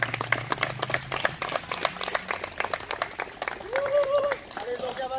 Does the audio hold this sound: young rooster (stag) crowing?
no